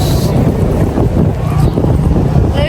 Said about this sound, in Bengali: বাতাস।